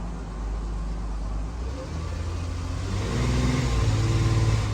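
A 2016 Dodge Grand Caravan minivan with transmission trouble pulls away in drive, its engine hum steady at first, then swelling louder as it accelerates, with road noise underneath.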